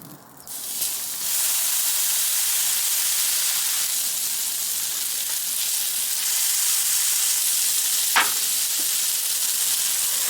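Burgers sizzling in oil on a griddle, a loud steady frying hiss that swells after a brief quieter start and holds evenly, with a single sharp clink near the end.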